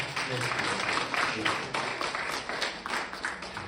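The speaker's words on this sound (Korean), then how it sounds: "우리 환영이 뜨거운 환영의 박수" A Korean Methodist church congregation in Arizona claps warmly during Sunday worship to welcome visitors, the brief applause loud and rhythmic with close hand claps.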